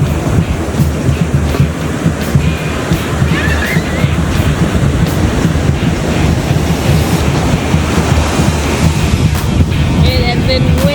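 Ocean waves breaking steadily on a beach at Riu Emerald Bay in Mazatlan, a loud continuous roar of surf with heavy wind buffeting the microphone.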